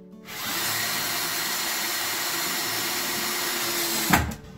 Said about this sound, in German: Das werde ich jetzt von hier unten verschrauben mit 35 mm Schnellschrauben